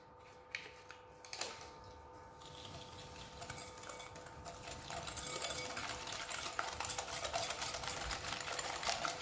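Sugar and vanilla sugar being mixed into cake batter for a pineapple and coconut cake, heard as a soft, steady whirring mixer that grows slightly louder and rougher partway through, with no voices.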